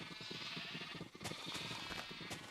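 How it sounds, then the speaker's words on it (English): Sheep in Minecraft bleating over and over, a faint flock of overlapping game bleats crowding close with a soft, repetitive rhythm. "I'm being mobbed by sheep"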